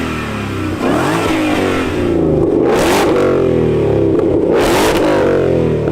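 A powerful Ford Mustang engine, not a GT350, revs twice, rising and falling in loud, throaty sweeps close by, with a rumbling idle between the pulls.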